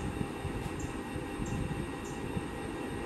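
Steady low rumble and rattle of a train in motion, with a constant broadband roar and faint high-pitched squeals, no voices.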